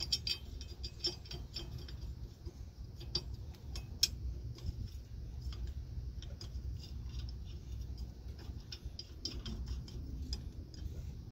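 Bolts being put back and tightened on a semi trailer during S-cam and bushing replacement, faint metallic ticks and clicks scattered over a low shop rumble.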